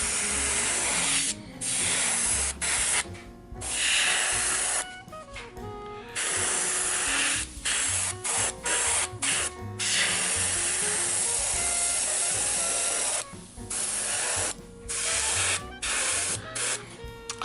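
An Iwata Eclipse airbrush spraying black paint onto a Kingdom Death: Monster Dragon King miniature gives a loud, steady hiss in repeated bursts, cutting off briefly between passes.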